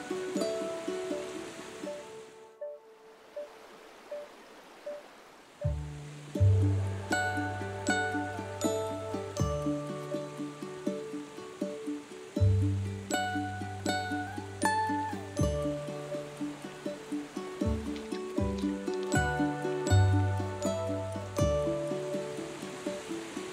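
Rushing water from rivers and waterfalls in a forest near Coroico, Bolivia, makes a steady roar, with a rhythmic musical part coming in over it after a few seconds.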